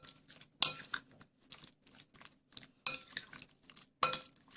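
Chicken marinade with oil and vinegar is stirred in a bowl, giving close, wet, squelchy mixing strokes with several sharp clinks of the spoon against the bowl, alone and fairly quiet.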